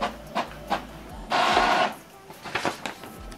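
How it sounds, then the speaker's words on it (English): An Epson printer printing a test page: soft mechanical clicks and short whirring pulses around a longer feed-and-print whir in the middle, fairly quiet with no speech. "It's printing the test page."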